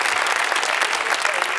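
A studio audience at a late-night comedy monologue claps steadily and densely, with loud sustained applause all the way through.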